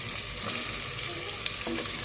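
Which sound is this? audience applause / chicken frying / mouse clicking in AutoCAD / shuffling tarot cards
chicken frying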